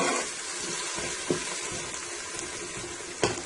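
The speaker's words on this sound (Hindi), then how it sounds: "अदरक लहसुन का पेस्ट डाल देंगे। तो 1 मिनट तक फ्राई करने के बाद" Ginger garlic paste fries in a pan with a steady, bright sizzle, close and even, punctuated by a couple of soft stirring knocks, and no one speaks.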